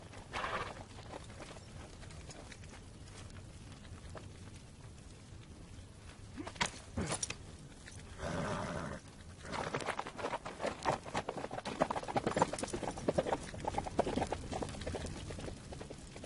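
Horse hooves clip-clop steadily through a theatrical staging of Julius Caesar, a continuous patter of steps that grows louder and busier toward the end, with no talk over it.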